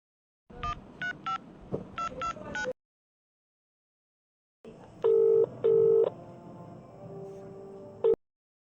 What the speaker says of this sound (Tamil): கால் பண்ணி பார்ப்போம்.